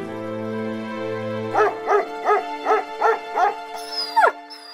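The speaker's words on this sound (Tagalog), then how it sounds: "Mabuti na lang at nariyan si Buboy, ang alaga niyang aso, na laging nagpapasaya sa kanya." Pet dog giving a run of six evenly spaced yapping barks over a sustained musical tone, followed by a couple of higher yips, close and clear with no talking.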